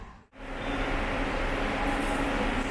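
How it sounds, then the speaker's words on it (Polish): Ambience in the railway station at San Sebastián, in the Basque Country, a steady rumbling hum of trains and machinery that dips briefly at the start and then holds even. "no to jest dworzec kolejowy w San Sebastian"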